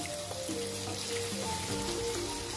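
Mustard oil sizzles and fries steadily in a pan as a small-fish curry gets started, a continuous close hiss with faint clinks and stirring throughout and no talking.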